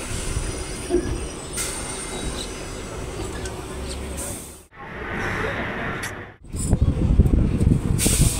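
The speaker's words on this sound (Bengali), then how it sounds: "ট্রেন এসে থামলো পালপাড়া স্টেশন।" Sealdah-Lalgola passenger train pulling into a station, a loud continuous rumble of wagons with wheel squeal and clatter that briefly dips, then swells again with heavy rattling near the end.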